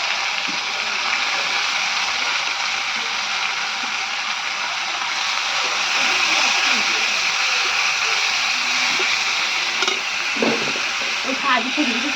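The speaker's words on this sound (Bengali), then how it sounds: "এখানে কাকিমা শাকগুলোকে ভেজে নিচ্ছে" In a Bengali home kitchen, boiled mixed garden greens fry in a pan with a continuous, loud sizzling hiss and occasional soft stirring scrapes nearby.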